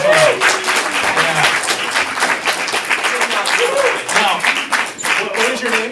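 An audience at a stand-up comedy showcase applauds in a dense burst that gradually thins out, while a voice talks over the clapping.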